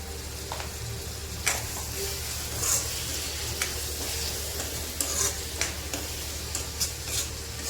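Onion, tomato, ginger, coriander and green chili paste with a little salt sizzles in a pan, a steady close frying hiss broken by repeated scrapes and taps of a spoon stirring every second or so.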